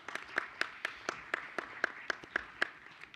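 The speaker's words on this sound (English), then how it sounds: "One more round of applause for those talented kids." A few people at a school board meeting clap for talented kids. The handclaps are sparse and evenly spaced, about a dozen distinct hits, faint and somewhat distant.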